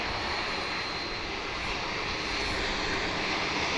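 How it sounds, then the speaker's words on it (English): A Boeing 787 Dreamliner arriving at DFW International Airport on the daily flight from Auckland, New Zealand, gives a steady, broad engine roar at moderate distance, constant throughout with no talk. "It's a Dreamliner"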